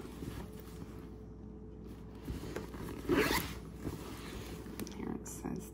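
A quick zipper pull on a purse's zipper pocket rasps once amid handling noise and faint rustling, with a voice murmuring in the background.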